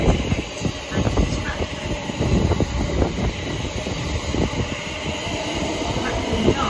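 A five-coach Greater Anglia train at Stratford station, a loud continuous rumble of wheels and running gear with clattering bursts, close by, with no voices.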